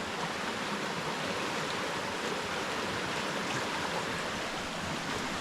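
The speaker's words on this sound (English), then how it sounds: "this is the river that is flowing. You can hear the sounds of water." A village river flows past farm fields, a steady, unbroken rush of moving water heard close by with no voices.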